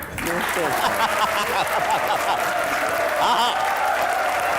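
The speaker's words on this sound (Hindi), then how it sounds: "आपकी भरपूर तालियों में मिफ्ता इस्माइल।" A studio audience on a comedy talk show claps loudly in a dense, sustained burst, while a host's voice talks over the applause throughout.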